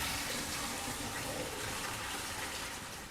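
Water running into a sink to fill it for soaking cut potatoes, a steady faint gushing stream from start to finish.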